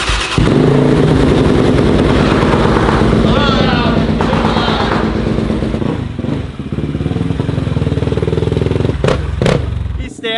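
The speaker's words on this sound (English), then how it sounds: "Stands up on the seat and does a wheelie." A quad ATV engine revs loudly and continuously close by as the rider stands on the seat and pulls a wheelie, with brief clatter and voices talking over the roar near the end.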